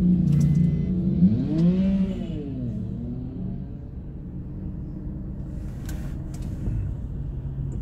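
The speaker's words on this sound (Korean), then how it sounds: "차들이 엄청 많긴 해." Road traffic rumbles nearby as a car passes with a rising and falling engine whine, followed by a steady low hum of more vehicles.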